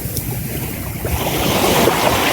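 Sea waves surge and wash continuously, a loud rushing roar of surf mixed with strong wind buffeting the microphone.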